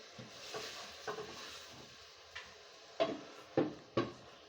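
A spoon scrapes and knocks against a cooking pot while mrenda and spinach are stirred together, giving a series of soft scuffs and a few sharper taps, quiet and close with no talking.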